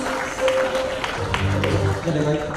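Audience applause at a NEET 2025 student awards ceremony, welcoming an award winner onstage: a steady wash of clapping from a crowd, fairly loud and continuous throughout, with some tonal background music and voices mixed underneath.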